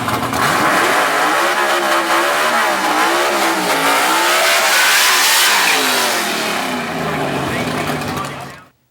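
A high-winding C-gas class drag racing gasser engine revs hard toward 10,000 rpm in the burnout box, its pitch swooping up and down loudly before fading out, with talk over it.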